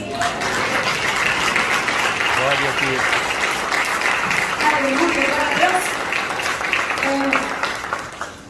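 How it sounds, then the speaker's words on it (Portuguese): Church congregation applauding together, with a steady wash of clapping throughout and voices praising over it, tailing off near the end. "E todos que crêem, digam amém, aplaudam o Rei dos Reis"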